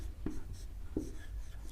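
A teacher writes notes on input devices, probably chalk or marker on a board, giving two short scratchy taps about 0.7 seconds apart over a quiet room hum.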